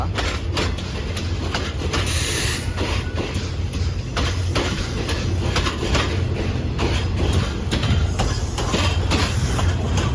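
KTMB train from Malaysia rolling into Hat Yai junction, a steady loud rumble with repeated clickety-clack of wheels over rail joints throughout.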